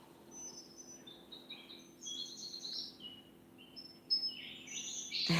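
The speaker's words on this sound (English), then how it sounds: "Isn't it nice to hear the bird song?" Birdsong in a quiet setting: several small birds chirp and trill in short, high bursts throughout, fairly faint and slightly distant, over a low steady hum, with a brief sharp noise at the very end.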